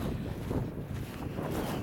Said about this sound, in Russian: Ветер гуляет тут у нас в степи